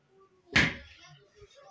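A glass sauna door held by a magnetic catch on its handle opens with a single sharp click and short thud, then the room goes quiet.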